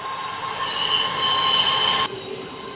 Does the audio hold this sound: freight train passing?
yes